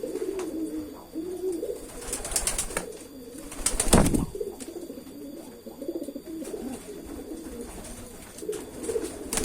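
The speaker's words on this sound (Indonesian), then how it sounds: "Oke, saya langsung tes giring burung merpati." A male pigeon coos in courtship, repeated throaty rolling coos close by, with a sharp burst of wing or handling noise in the middle.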